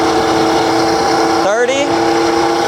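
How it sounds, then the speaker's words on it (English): The electric motor of a HiKNIGHT GTX1 mini electric dirt bike spins at speed with a loud, steady whine over rushing wind noise, its pitch sliding briefly as the bike accelerates. "Oh yeah, that motor's spinning now."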